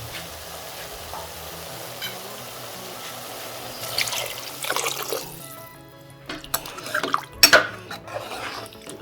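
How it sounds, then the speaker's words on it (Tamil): Water splashes and gurgles into a metal pot while cooking vegetable biryani, followed by clinks and sizzling kitchen sounds, close by with no voices. "அதுக்கு 3 டம்ளர் தண்ணி ஊற்றணும்."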